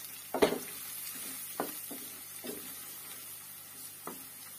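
Dried mint stirred into a hot pan for Turkish ezogelin soup, a faint sizzle under a handful of spaced spoon scrapes and taps, close and quiet with no talk.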